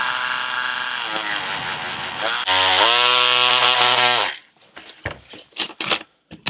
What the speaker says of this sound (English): So let's take our little wire wheel and our Dremel.